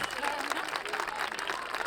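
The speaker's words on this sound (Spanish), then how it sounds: "un forte aplauso para ela" An audience applauding a singer at the Canta con Ames 2023 performance, a steady wash of clapping at moderate distance with voices mixed in, lasting throughout.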